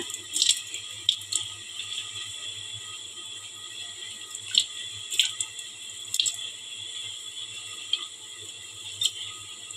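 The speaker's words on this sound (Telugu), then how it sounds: "వీటిని మనం కడిగి తొక్కలు తీసుకోవాలి" Roasted brinjals are rinsed in water to peel them, with faint, scattered drips and light splashes that come and go over a low, steady background.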